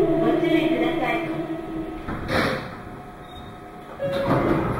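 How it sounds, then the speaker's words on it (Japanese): Doors of a Meitetsu 2200 series limited express train opening at a station on a heavy-rain day, a hiss and slide under a recorded announcement and train hum. "ドアが開きます。"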